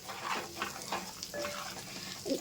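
Chili powder and garam masala frying in oil, a soft close sizzle with a few stirring scrapes and a light clink of a utensil, brief and fairly quiet.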